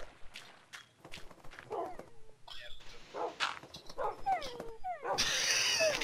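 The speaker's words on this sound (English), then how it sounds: "Can you help the doggies out?" Tamed wolves in a Minecraft Beta 1.4 world whimper and yip in short, high bursts, with footsteps and brief talk in between; the calls rise and fall at close range and repeat across the stretch.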